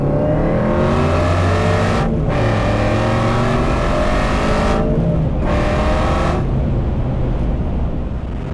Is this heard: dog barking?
no